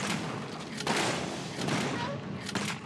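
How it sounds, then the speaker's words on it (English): Gunfire from a gun in the action RPG Torchlight, a dense burst of shots with heavier thumps near one second and again near two and a half seconds, loud and sustained under faint background noise. "Using the gun."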